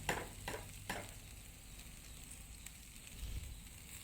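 Marinated pork sizzling on a grill, a soft steady crackle and hiss with a few louder pops near the start, faint and close, with no talking.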